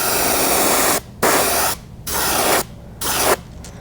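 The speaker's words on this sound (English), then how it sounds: "we'll spray the back and about halfway down the sides with this" An airbrush sprays paint onto a fishing lure body in four short bursts of loud, broad hiss, close up, with brief silent pauses between them.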